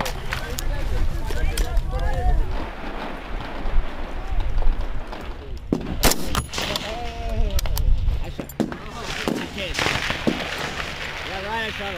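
Rifle gunfire at a Marine Corps recruit shooting range on Parris Island, with sharp loud reports, one especially strong, over busy background noise and people talking.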